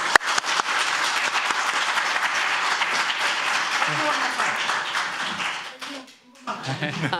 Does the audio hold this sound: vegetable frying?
no